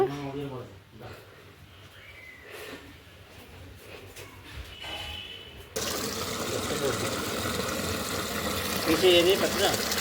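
Tap water gushes steadily into a sink while pumpkins are washed. Soft talk and handling noises come first, then the running water takes over, strong and continuous.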